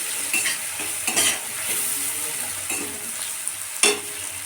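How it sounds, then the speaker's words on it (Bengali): Turmeric and chili powder fry in a hot pan with a steady soft sizzle, broken by a few scraping stirs of a spoon against the metal. "এটাকে হাত ভেজে নিতে হবে।"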